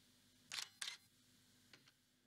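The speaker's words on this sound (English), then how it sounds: "So I have here that shutter sound." DSLR camera shutter sound effect: two crisp mechanical clicks close together, followed by a fainter, quicker pair of clicks, isolated against near silence.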